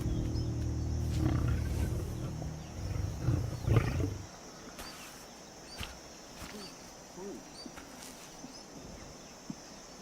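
A lioness in Gujarat's wild, sick and tended by a wildlife rescue crew, gives a few low rumbling roars over the first four seconds, then faint outdoor ambience with occasional thumps.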